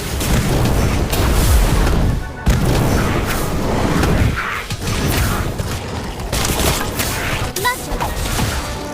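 Incendio fire spell cast in the Harry Potter Magic Awakened mobile game: loud, dense booming bursts and crackling magical blasts, with a brief dropout near the middle and a sharper hit late on.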